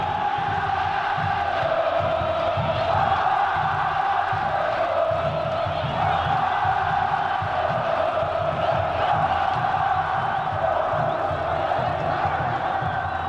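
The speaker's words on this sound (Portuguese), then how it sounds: "E o delírio da torcida vascaína" A large Vasco da Gama stadium crowd roars and cheers without pause through a Mercosur Cup semi-final against River Plate in 2000, a dense, loud wall of voices with rising swells and no one speaking over it.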